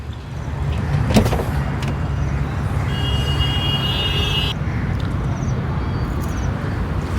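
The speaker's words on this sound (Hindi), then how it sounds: "मिनी कूपर है, ये मिनी कूपर कन्वर्टेबल है और ये लेटेस्ट एडिशन है।" A 2000 cc Mini Cooper convertible of the latest edition drives along a road with steady engine and tyre noise, passing traffic and a brief whine, heard from inside the car.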